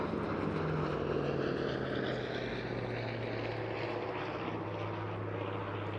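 A piston-engine fighter with a Centaurus engine, a shorter-winged relative of the Hawker Tempest, flies at the 2022 Eastbourne airshow, its propeller drone a steady, rumbling hum heard at a moderate distance throughout.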